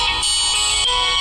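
A mobile phone ringtone plays loudly and steadily, a bright electronic melody with sustained tones and no voices over it.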